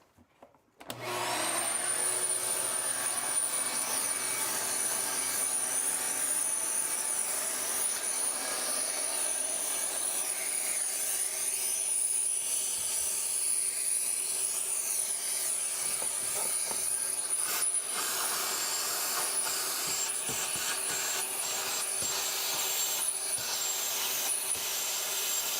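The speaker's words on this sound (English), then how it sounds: "We're gonna make jigsawing and vacuuming at the same time." A jigsaw fitted with a metal-cutting blade saws steadily while a vacuum runs alongside, producing a loud, continuous high-pitched whine and grinding roar that holds for about twenty-five seconds with no pauses.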